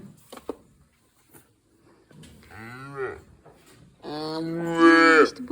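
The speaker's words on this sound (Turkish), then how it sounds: "Bu yeni doğan. Anasını çağırıyor." A newborn calf bawls twice for its mother, the second cry louder and longer, with a faint knock before it; no talking.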